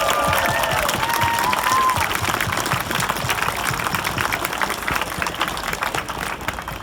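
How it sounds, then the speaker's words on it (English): Audience applause for climate protesters at a climate crisis event, a dense sustained clapping that holds steady and loud before thinning slightly toward the end, with a brief voice at the start. "we should give them a clap"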